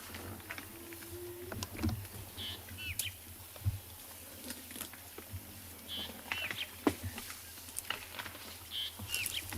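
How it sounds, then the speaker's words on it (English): Birds calling at sunrise on an African safari at Tswalu, scattered faint chirps and whistles over a low steady hum, distant and quiet with no talking. "The birds are coming alive, starting to call and get ready for the day."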